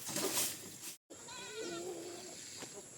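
Farm goats gathering at their pen for branches of tree fodder let out several wavering, nasal bleats at moderate distance, quiet and overlapping, after a brief rustle and a short dropout.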